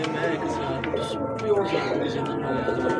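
A blue pigeon coos softly and repeatedly at close range over a steady background hum, with no speech over it.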